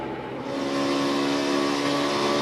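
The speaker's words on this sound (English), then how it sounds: "Okay, I call that wheel hop." A NASCAR Nationwide Series race car at the 2013 Johnsonville Sausage 200, with its rear tires hopping under hard braking. The engine gives a loud, steady, buzzing drone that swells slightly and carries on without a break.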